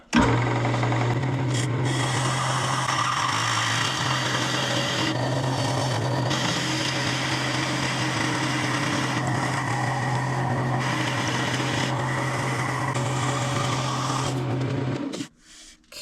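A wood lathe boring into a turning with a bit held in a Jacob's chuck: a steady hum with a continuous rasping, scraping grind, close and loud, running without pause until the motor stops near the end.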